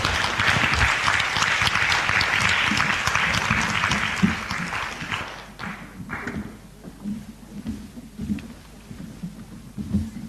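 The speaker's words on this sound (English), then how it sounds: "I would like a big round of applause for our panelists" Audience at a conference panel session applauding the panelists, a full burst of clapping that fades after about five seconds into scattered claps and room murmur.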